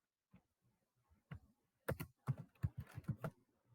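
Computer keyboard being typed on during Rust programming, with quiet scattered keystrokes at first, then a denser run of sharp, close clicks in quick irregular bursts, no talking.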